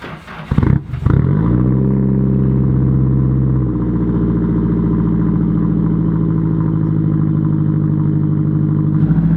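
A Nissan S13 that has been sitting in the snow cranks briefly with a clattering starter, then catches and settles into a loud, steady idle that runs on close by.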